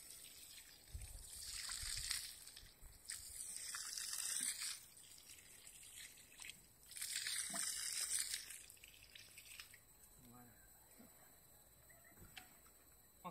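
Water pours and trickles into the bottom of a seed furrow in a vegetable garden, coming in a few soft gushing bursts separated by quieter dripping pauses, fairly faint and close.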